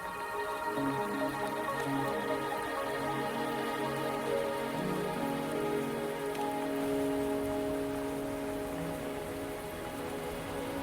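Steady rain pattering on surfaces in the game Wuthering Waves, a constant dense hiss of drops with low game music tones underneath, no speech.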